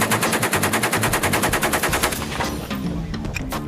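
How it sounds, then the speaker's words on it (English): An assault rifle fired from the hip in the desert lets loose a long, loud burst of rapid automatic fire, then a few scattered shots trail off as the echo fades. "Kind of like Vietnam, Navy SEAL era, shoot from the hip, Rambo type of"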